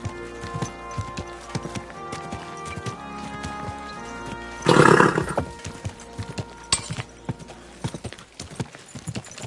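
A horse trots in the medieval game Kingdom Come: Deliverance 2. Its hooves clip-clop steadily and close, and the sound swells briefly into a louder burst partway through.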